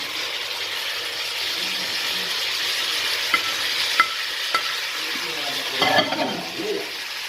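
Potatoes for sambal goreng fry and sizzle in a pan with a steady hiss, while a spoon scrapes and stirs in a few distinct clicks and scrapes, with no talk.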